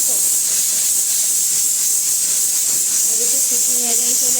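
A kitchen pressure cooker lets out a loud, continuous hissing jet of steam from its whistle, with faint chatter and clatter underneath in a home kitchen.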